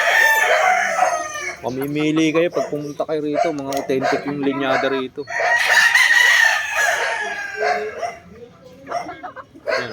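Chickens and roosters crow at a game farm, one crow near and loud and others repeating at varying distances, with clucking and a few dog barks, while someone talks over them.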